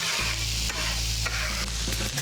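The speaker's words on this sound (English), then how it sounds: "Let's go ahead and give that a stir." Garlic and diced onion sizzle steadily in a cast iron pan while a utensil stirs through them, a close, continuous frying hiss with a few scraping strokes and no talking.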